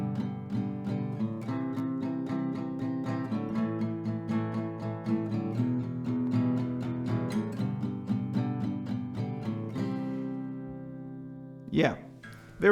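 Acoustic guitar strumming a song at normal tempo, brisk even strokes through the chord changes, close and clear, fading out before a brief voice at the end.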